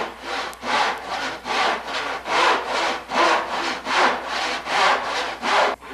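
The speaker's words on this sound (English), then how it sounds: "Setting the back saw into the slot, you start with a couple backward cuts," A back saw cutting wooden trim held in a miter box, a series of about ten loud rasping strokes in an even back-and-forth rhythm, close and clear with short gaps between strokes.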